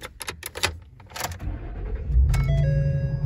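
A 2012 Ford F-250 XLT pickup starting up: keys jingle and click in the ignition, then the starter cranks briefly and the engine catches into a loud, deep, steady idle heard close from inside the cab.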